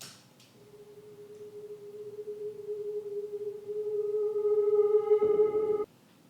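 A reversed guitar note with the high end cut away, a dreamy lo-fi piano effect and full reverb, swelling slowly as a soft, sustained tone with a faint shimmer before ending suddenly near the end.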